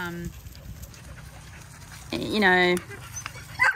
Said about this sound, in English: the barking's a good one, isn't it?